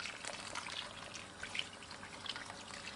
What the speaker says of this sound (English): put enough water to come right to the top of the roast